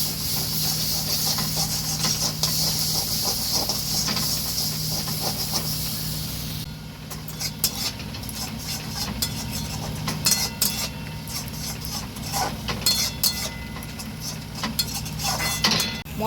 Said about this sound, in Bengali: আঁচটা কমিয়ে রেখে এবার আমি এইগুলো ভালো করে কষে নেব মশলাটা